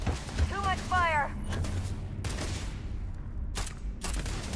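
Gunfire in the space-combat game Starfield, a fusillade of sharp shots with whining ricochet-like tones over a steady rumble, while a person talks through part of it.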